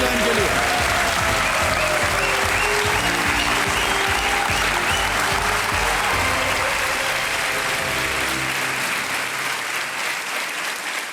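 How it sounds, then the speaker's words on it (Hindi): A television quiz show studio audience breaks into loud, sustained applause, dense clapping that carries steadily for about ten seconds before tapering slightly at the end. "तालियां बज जाएं इनके लिए"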